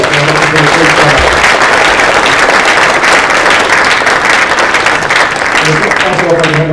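Loud, dense applause from an audience honoring students at a business plan competition, steady throughout with a voice briefly audible under the clapping at the start and near the end.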